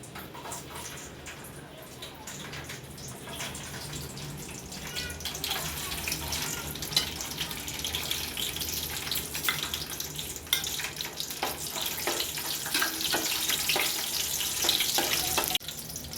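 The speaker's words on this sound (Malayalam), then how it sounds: "ഇനി ഇതിലേക്ക് തോല് കളയാത്ത വെളുത്തുള്ളി ഒന്ന് വെളിച്ചെണ്ണയിൽ മൂപ്പിച്ചെടുക്കാം." Unpeeled garlic cloves fry in hot coconut oil for a spicy prawn mixture snack, giving a steady close sizzle and hiss that grows louder and denser toward the end, with faint background clatter.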